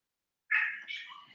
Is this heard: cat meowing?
yes